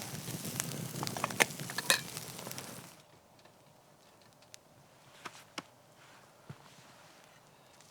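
Steak sizzles over a campfire outdoors in the cold, crackling and hissing for about three seconds with sharp pops, then only faint scattered crackles and ticks remain.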